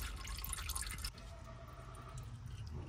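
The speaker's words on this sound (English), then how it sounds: "Just drains right down into the pan." Engine oil draining from a 2022 Chevrolet 2500HD with the 6.6L gasoline engine into a drain pan, a steady close dripping and trickling pour with a denser splashing stretch at the start.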